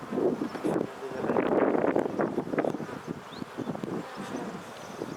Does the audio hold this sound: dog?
no